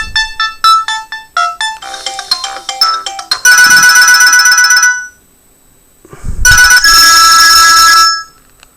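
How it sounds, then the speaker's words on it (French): A big-button classic mobile phone plays a loud ringtone melody: a quick run of bright beeping notes, then sustained shrill ringing bursts with a short gap between them. "Dans les réglages téléphone, vous pouvez choisir donc la mélodie pour la sonnerie ou pour différentes choses."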